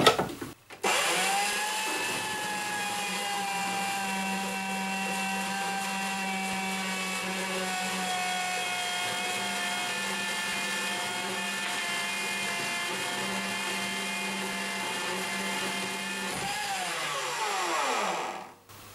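Femi 782 XL band saw running through a flat cut, a steady whining motor drone with a harmonic hum held for about fifteen seconds, then winding down as the blade slows, close and continuous without speech.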